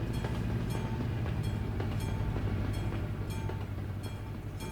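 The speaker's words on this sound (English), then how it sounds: "Uh-oh, train." A train passes in Euro Truck Simulator 2, a continuous loud rolling rumble with regular clicking wheel beats, steady and close throughout.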